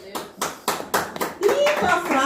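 Rhythmic clapping from a church congregation at a Sunday service, sharp unison claps roughly every quarter second, close and loud, giving way to mixed voices and cheering near the end.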